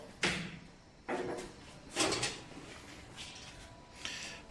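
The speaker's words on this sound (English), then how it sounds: "open the door." A new vending machine's door being opened, a few separate clunks and sliding knocks spaced about a second apart, fairly quiet and close, no talk.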